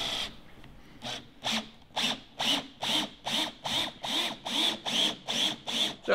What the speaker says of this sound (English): we're just screwing the back plate on